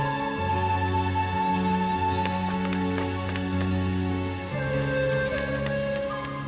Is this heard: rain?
yes